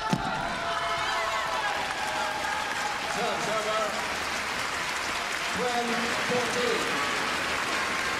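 Steady applause from the audience at the 2011 Badminton World Championships, a broad, continuous patter of many hands heard at a distance with a commentator's voice talking over it.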